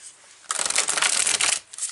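Tarot cards shuffled on a cloth, a steady soft riffling rush that starts after a brief quiet and runs nearly continuously, close and fairly loud, with a short dip near the end.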